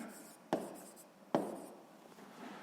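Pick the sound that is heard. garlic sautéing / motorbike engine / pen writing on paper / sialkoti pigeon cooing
pen writing on paper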